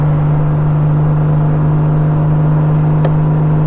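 A 1989 Honda Goldwing motorcycle on a test ride gives a steady, loud engine hum with a strong low drone and constant road rumble throughout, plus one brief sharp click near the end.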